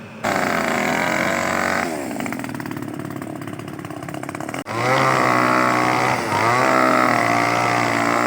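A loud small engine buzzes steadily, its pitch rising and falling as it revs up and down, close by with no talking.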